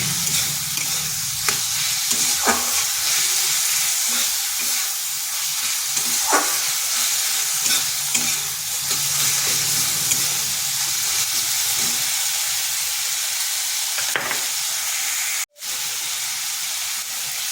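Tomato with salt and turmeric sautés in a pan for a pumpkin and masoor dal dish, a steady close sizzle running throughout with occasional stirring scrapes and taps, no voices.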